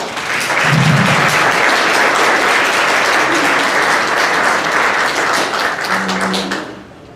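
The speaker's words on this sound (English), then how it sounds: "Please give them a round of applause." Audience applause at an after-school drum camp final show, ahead of a marimba class performance: dense, steady clapping from a large crowd that carries on for several seconds and then tapers off at the end.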